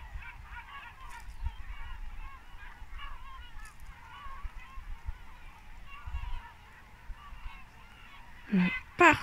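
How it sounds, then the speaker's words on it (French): A large flock of seagulls calls continuously along a waterfront, a dense bed of squawks and cries with a couple of louder, nearer calls breaking out toward the end. "Vous voyez un petit peu toutes ces mouettes là?"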